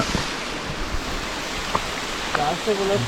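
Steady rushing water flows from a waterfall near Shivamogga running at low volume, a continuous broadband wash, with faint voices and a few brief sounds breaking through near the end.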